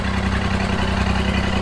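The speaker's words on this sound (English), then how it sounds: "Perkins is running on all three cylinders now" Massey Ferguson 35 tractor with a rebuilt Perkins 3152 three-cylinder diesel idling steadily up close, a loud, even low-pitched chug with constant vibration and no voices.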